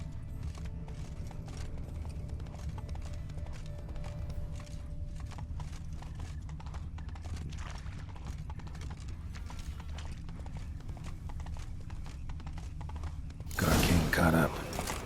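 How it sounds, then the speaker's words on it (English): Faint rumbling ambience with soft, intermittent hoof clatter of horses pulling off a road in The Witcher 3: Blood and Wine, then a brief loud burst of noise near the end. "Horses must have gotten spooked."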